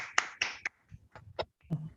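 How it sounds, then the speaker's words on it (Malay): Scattered, sparse hand claps from a small audience at a communication training session, a few separate sharp claps spaced irregularly, fairly close and fading out quickly. "Berikan satu tepukan. Tepuklah."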